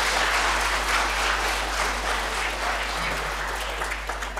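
A church congregation claps together during a Protestant sermon, a broad, even wash of many hands sustained at moderate loudness, tapering slightly toward the end with no speech over it.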